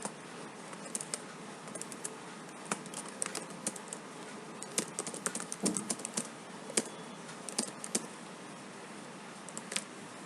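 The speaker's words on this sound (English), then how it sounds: "Let's type a serial number." Computer keyboard typing as serial numbers are entered into a Microsoft Excel sheet: scattered quick key clicks in irregular bursts, close and fairly quiet, with no talking.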